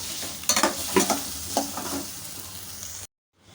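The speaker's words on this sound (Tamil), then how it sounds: "உப்பை சேர்த்துட்டு ஒரு தடவை நம்ம வந்து நல்லா கலந்து விட்டுக்கலாம் இப்போ இது எல்லாமே நல்லா வந்து வதங்கி ரெடியாகட்டும்" Bottle gourd sautés in a pan over a low flame as it is stirred: several scraping, clattering strokes over a soft sizzle, then quiet before the sound cuts off.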